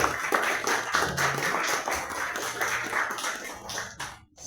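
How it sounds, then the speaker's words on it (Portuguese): A church congregation gives a round of applause for visitors during a Sunday service: dense, steady clapping fills the room for about four seconds, then quickly dies away. "Vamos dar uma salva de palmas para os nossos visitantes"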